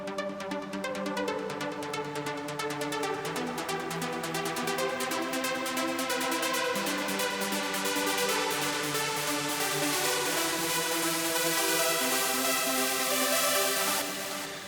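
A bright synthesizer lead patch plays a rapid stream of sustained, buzzy tones in a dense electronic mix, holding a steady loudness and growing brighter toward the end.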